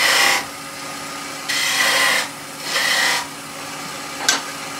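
A skew chisel cuts V-grooves into wood spinning on a lathe, making short, close scraping hisses in three bursts of about half a second to a second each, followed by a brief final touch.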